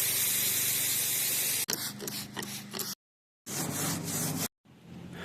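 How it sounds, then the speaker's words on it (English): A hose sprays water over a metal freestyle motocross ramp during cleaning, a loud steady hiss that cuts off in bursts with short silent gaps between sprays. "It's got some simple green and a scrub brush and a hose."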